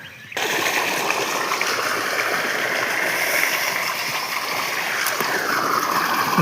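Irrigation water gushes steadily into the beds of a farm field, a continuous broadband rushing and splashing that starts abruptly and stays loud and close throughout.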